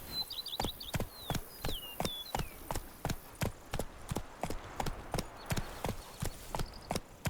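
Roach the horse gallops through The Witcher 3, its hooves pounding in a steady, rhythmic beat while birds chirp faintly in the background.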